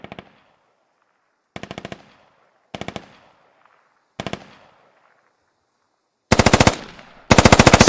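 Automatic gunfire in the military shooter game Squad comes in short rattling bursts, the first few spaced apart with quiet gaps, then two louder, longer volleys close together at the end.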